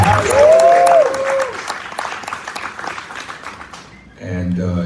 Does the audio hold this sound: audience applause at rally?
yes